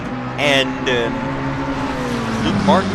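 McLaren race cars battle closely on the Spa circuit, their engines droning and revving with brief sharp passes, heard under continuous commentary.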